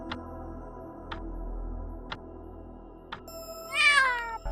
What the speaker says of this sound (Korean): 청년은 고양이 울음소리에 눈을 떴습니다